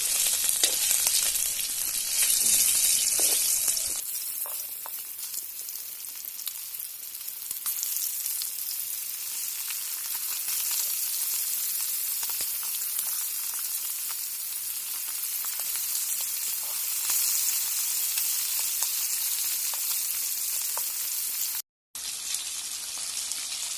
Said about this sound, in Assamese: মাছকেইটা ফ্ৰাই কৰি লওঁ ফাৰ্ষ্টতে।